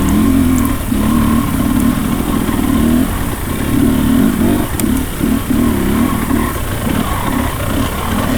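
A Husqvarna dirt bike revs hard in a hare scramble, its engine rising and falling in repeated blips close to the mic, loud and continuous with no talking.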